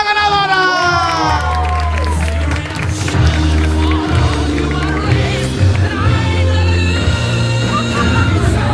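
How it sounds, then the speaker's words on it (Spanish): A loud crowd claps and cheers continuously for a contest winner, with shouts and whoops over a thumping music beat and an amplified voice calling out. "¡Fuerte el aplauso para la ganadora!"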